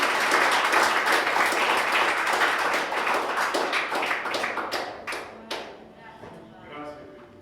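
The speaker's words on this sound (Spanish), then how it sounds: "Denle un aplauso al Dios que vive." A church congregation applauds loudly at first, the dense clapping thinning into scattered individual claps and then fading to near quiet toward the end.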